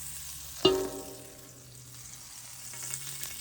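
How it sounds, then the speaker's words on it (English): Butter swirled in a pan before pancakes, giving a soft close sizzle after a brief clatter at the start, with the quiet frying hiss continuing steadily and no voices. "you are going to get a little bit of butter, and you're going to just swirl it on your pan"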